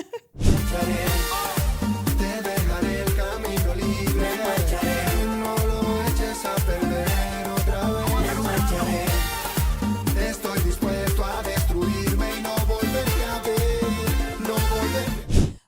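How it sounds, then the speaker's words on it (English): Fast, upbeat merengueton dance music with a driving percussive beat and dense layered instruments, playing loudly and steadily throughout. "And there is Merengueton that sounds like this."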